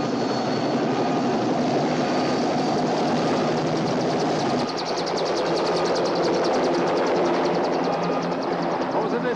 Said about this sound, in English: We are now ready for takeoff.